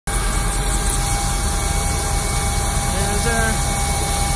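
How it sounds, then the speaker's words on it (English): A waiting plane's engine gives a loud, steady roar with a constant hum and a faint whine, unbroken throughout, while a person begins to speak over it. "finally the plane's here, so going for a 2-hour flight"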